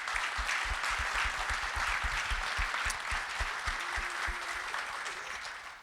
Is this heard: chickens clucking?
no